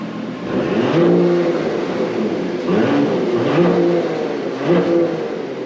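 Porsche Macan GTS engine revving hard in repeated rising surges, close and loud, with a throaty exhaust note that swells and falls about four times.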